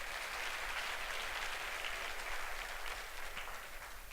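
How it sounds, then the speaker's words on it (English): Guests at an anniversary gala applaud two performers in a broad, continuous roar of many hands clapping, even and sustained, heard from a distance, with no clear voices on top. "Please give them a round of applause."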